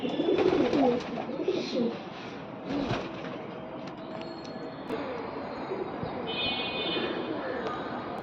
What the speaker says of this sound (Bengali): অনেক কবুতর।